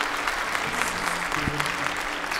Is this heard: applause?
yes